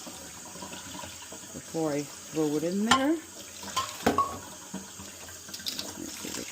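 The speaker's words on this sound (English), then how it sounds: "So I'm rinsing this. Got about a cup of pot barley." Tap water runs steadily as about a cup of pot barley is rinsed in a sink, a constant near hiss with brief clatters and splashes, while a person speaks over it.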